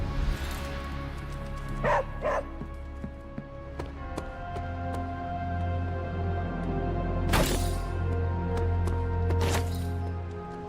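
A dog in the video game Marvel's Midnight Suns gives a few short barks and yips in separate bursts over a low in-game ambient hum, moderately close, with no talk.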